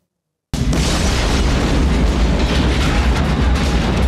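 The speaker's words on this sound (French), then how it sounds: "Question de suivre le protocole, Jack va tout faire exploser." A loud explosion from the 1998 film Vampires bursts in after half a second of silence, then a sustained heavy roar and rumble rolls on at full strength without fading, with no voices.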